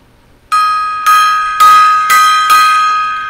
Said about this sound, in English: Gong time there.